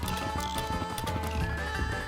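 Human voice imitating the Gorilla Tag zipline sound effect, a continuous whinnying, neigh-like vocal sound held for about two seconds, loud and close.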